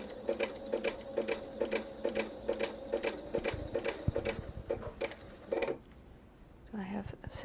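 A sewing machine stitches quilt fabric in a steady rapid mechanical clatter with regular pulses for several seconds, then stops, with a short whirr near the end; faint talk is present.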